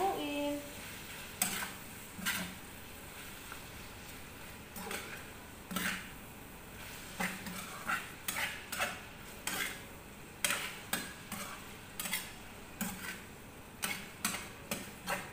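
A spoon or spatula stirs shrimp and pancit canton noodles in a sizzling pan, scraping and clinking against the metal in a steady, repeated rhythm of short strokes, close and alone with no talk.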